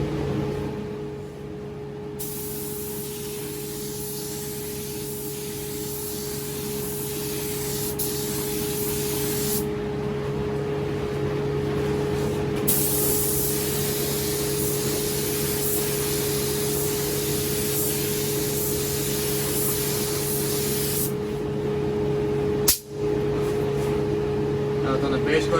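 A paint spray gun lays base coat in a spray booth, giving a continuous close hiss of air that runs almost unbroken, with a faint steady hum beneath and one brief click near the end.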